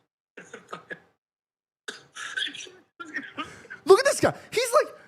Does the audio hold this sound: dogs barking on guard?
no